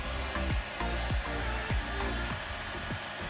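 Steady, close hot-air blowing from a heat gun warming vinyl wrap on a Quintrex 630 Freestyler boat, with a continuous airy roar and a few low thumps underneath.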